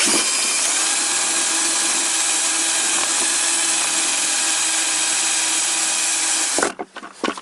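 A loud, steady broadband whir of a power drill running continuously for several seconds while disassembling a Toyota Corolla VVT-i engine intake manifold, then cutting off abruptly into a few short clatters as the drill gets stuck.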